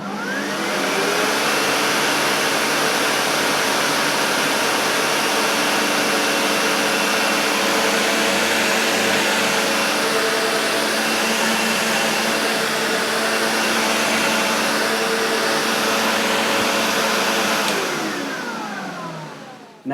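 A Sebo Automatic X4 upright vacuum cleaner runs on low-pile carpet, its motor roaring loud and steady for about eighteen seconds with a rising whine at start, then winding down near the end, alone with no talking.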